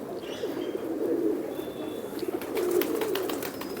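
Pigeons cooing in a racing-pigeon breeder's loft in old Jammu city, a steady overlapping murmur of soft repeated coos with faint chirps and bird chatter around them, continuous through the whole stretch.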